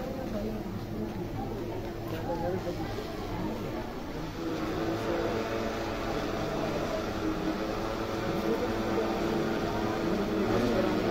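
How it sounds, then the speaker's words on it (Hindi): A helicopter drones overhead at an outdoor village gathering in India, a steady rotor and engine roar that grows louder, while people talk nearby. "हेलीकॉप्टर कितनी आवाज है"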